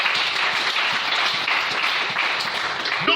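A church congregation applauds the Lord, steady dense clapping from a crowd filling the room at even loudness throughout, with faint voices mixed in.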